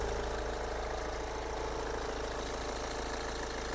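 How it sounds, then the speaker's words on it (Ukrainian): A Hyundai Santa Fe 2.2 CRDi diesel engine running at a steady idle, with a dense, even, close-up drone and a faint rhythmic clatter, heard alone without talk. "Робота двигуна. Двигун працює чітко"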